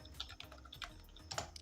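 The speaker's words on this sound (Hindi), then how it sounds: "मैं यहाँ पर जो भी प्रोडक्ट हैं उनको मैं टाइप कर लेता हूँ" Typing on a computer keyboard while entering product names for an invoice in MS Excel, with a quick run of close, crisp key clicks and a few heavier strokes, no talk.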